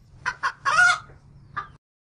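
A hen clucks and squawks in a quick burst of close, sharp calls, one drawn-out cackle in the middle and a last short cluck.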